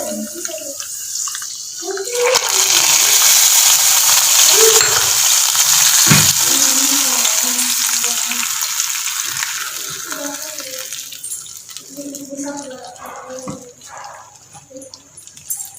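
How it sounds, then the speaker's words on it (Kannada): Cashews frying in hot ghee in a pan for sabudana payasam, a steady loud sizzle that swells early and then thins into softer crackles, with no talking. "ಇವಾಗ ತುಪ್ಪದಲ್ಲಿ ಗೋಡಂಬಿನ ಫ್ರೈ ಮಾಡಿಬಿಟ್ಟು ಅದಕ್ಕೆ ಹಾಕ್ತೀನಿ ಫ್ರೆಂಡ್ಸ್"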